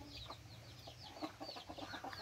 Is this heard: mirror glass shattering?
no